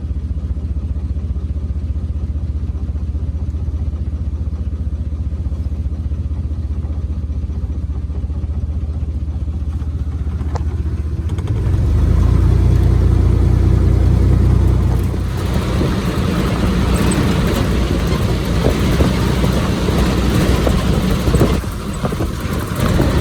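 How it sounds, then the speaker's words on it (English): A six-cylinder engine idles with a low steady rumble, then swells louder for a few seconds as it revs and pulls away, settling into a running drone with road and cabin noise. "Listen to that, 6 cylinders of freedom."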